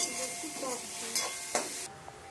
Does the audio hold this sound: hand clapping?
no